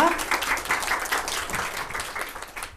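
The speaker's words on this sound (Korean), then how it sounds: "큰 박수로 맞이해 주세요" An audience at a leadership school admissions information session claps to welcome a faculty member, a steady patter of applause with a voice briefly audible at the start.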